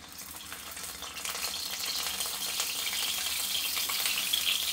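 Eggs fry in hot oil in a kadai for an egg hirwa masala dish, giving a steady, bright sizzle that builds slightly and holds close and continuous with no voices.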